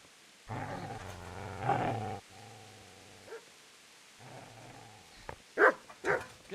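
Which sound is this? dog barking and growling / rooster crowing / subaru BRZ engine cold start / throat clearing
dog barking and growling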